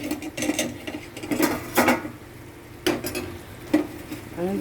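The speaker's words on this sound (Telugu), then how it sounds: "చికెన్ ఫ్రై చేస్తున్నాను." Home-made chicken fry cooking in oil in a pan, with a steady low sizzle broken by a few louder bursts of stirring and scraping against the pan.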